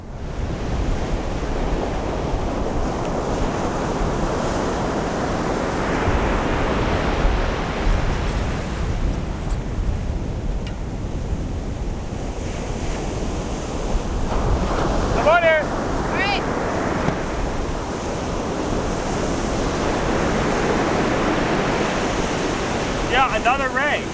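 Ocean surf rolls and breaks continuously along a beach where people are surf fishing, a loud steady wash of waves with wind buffeting the microphone and brief faint whistling tones partway through.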